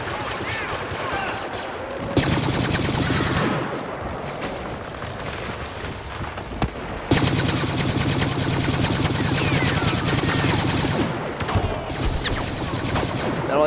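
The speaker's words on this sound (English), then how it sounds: "Stop shooting!" Rapid blaster fire crackles in sustained bursts during Star Wars Battlefront combat, dense and loud with brief lulls, mixed with shouting voices and explosions around a walker battle.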